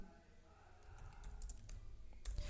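Quiet keystrokes tap out a short command on a computer keyboard, a loose run of soft clicks ending in a firmer press or two.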